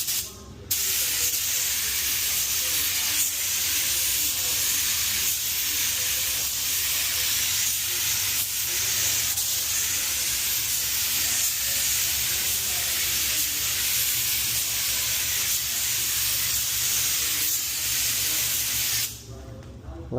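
A paint spray gun hisses steadily on compressed air, with the fan and air pressure turned up, spraying in one long continuous burst for most of the stretch before cutting off near the end; close and fairly loud, with no talk.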